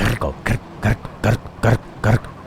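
A voice imitates a car engine being feathered in GTA San Andreas Remastered, producing seven loud, evenly spaced sputtering bursts in quick rhythm, close and alone.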